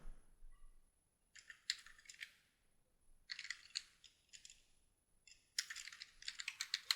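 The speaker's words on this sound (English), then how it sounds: "I'll just type in here" Bursts of computer keyboard typing while renaming a layer in image-editing software, with clusters of crisp key clicks separated by short pauses, close and fairly quiet, with no talking.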